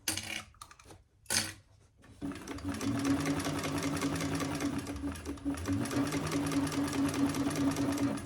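A domestic sewing machine stitches faux leather for a shoulder bag, starting with a few short stop-start bursts, then settling into a loud, steady, continuous mechanical whir and rapid needle clatter.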